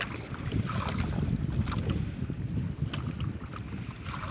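Engines of many bangka boats and wind rumble over open water, with a steady low drone and gusty noise throughout.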